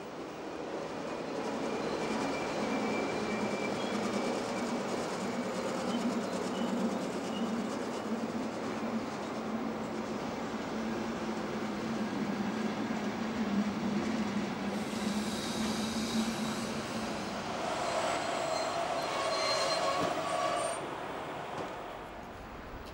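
A train arrives, a Silberling control car pushed by a DB class E41 electric locomotive, rumbling steadily and loudly past with wheel noise and brief squeals as it slows.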